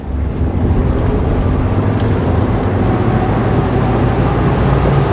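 A Schaefer V33 motor boat accelerating onto the plane, with a loud, steady engine roar mixed with rushing water and heavy wind buffeting throughout.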